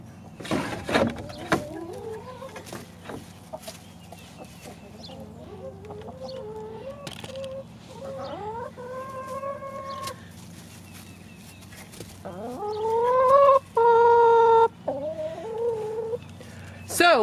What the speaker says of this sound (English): we have to get the chickens out of their coop